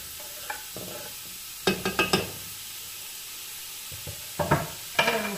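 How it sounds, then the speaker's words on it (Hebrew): Chopped onion sizzling in a hot pot, heard as soft frying hiss with clusters of sharp clattering stir and scrape sounds close by. "אני מורידה את הבצל לסיר חם"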